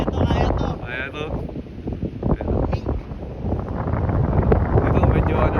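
Strong coastal wind buffeting the microphone at Crocodile Island, a steady broadband rush with gusts rising toward the end, while people talk over it.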